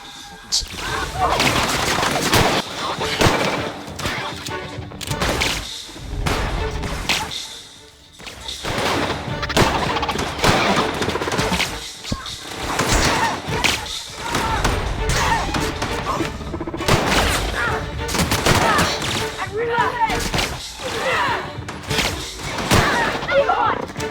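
A gun in The Outer Worlds fires in repeated bursts of heavy shots and thuds during a firefight, loud and near, with a short lull, and someone talks over parts of it.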